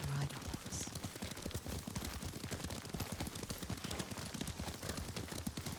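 Horse hooves clip-clopping during a ride in Ghost of Tsushima, a steady rhythmic trot of soft thuds continuing throughout at moderate, fairly quiet level.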